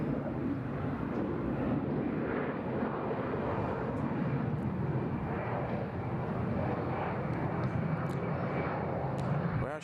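Jet airliner engines roar at Bangkok Suvarnabhumi Airport, a steady, loud broadband rumble that holds for the whole stretch, with wind buffeting the microphone.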